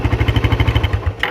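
A used motorcycle's engine idles close by with its exhaust covered by hand, a steady, rapid putt-putt pulse, loud and even, alone without voices.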